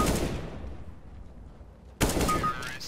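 CS:GO match: a loud gunshot cracks at the start and fades into a decaying tail, then a second sharp shot bursts out near the end, close and prominent.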